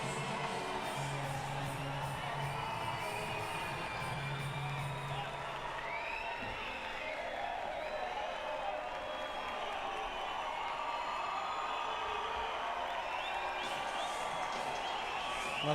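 A home crowd at Rio 2016 Paralympic judo keeps up a steady, distant roar of cheering and scattered whoops, with a voice talking intermittently over the arena noise throughout.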